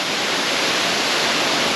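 A waterfall roars as a dense, steady wash of falling water, loud and close, with no voices over the constant rush.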